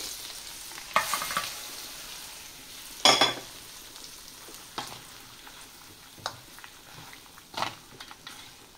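Hot oil tempering poured over dry mango pickle, a crackling sizzle with sharp bursts near 1 and 3 seconds and softer pops and spits scattered through the rest, fairly close and alone without talk.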